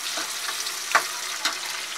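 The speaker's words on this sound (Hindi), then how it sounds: "मेवा में हमें इतना ही भूनना होता है कि इसमें से अच्छे से खुशबू आने लगे" Dry fruits and nuts, washed beforehand, roast in a pan with cloves over low heat, giving a soft, steady sizzle with a few light stirring knocks standing out, close and alone.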